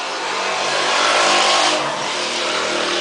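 Motorcycle passing by outside, a loud steady engine roar that swells to a peak mid-clip and eases off, heard alone with no talking.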